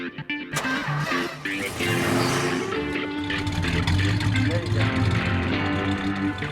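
Car engine firing up and idling for a drive-shaft pole vault test, loud and close after a sharp start, with voices talking over the running motor.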